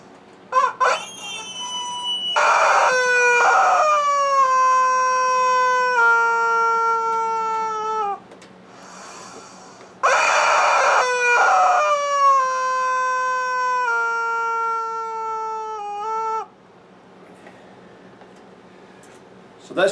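A Little River game call blown to imitate a chicken, giving long loud crowing and clucking phrases with falling pitch, two main bursts separated by a brief pause, close and clear with no talking.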